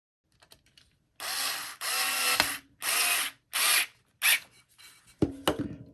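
Short bursts of a small screwdriver driving flathead screws into a Tamiya BT-01 Toyota Supra RC car bumper, five or six separate ratcheting spells in quick succession, close and clear with no talking.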